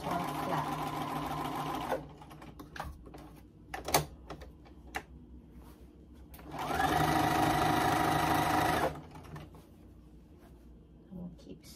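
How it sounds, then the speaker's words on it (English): A sewing machine stitches the flap of a wheelchair pocket bag in two loud bursts of steady whirring, the first ending around two seconds and the second running mid-clip, with quiet handling noises and clicks in between. "Now we're going to sew our flap."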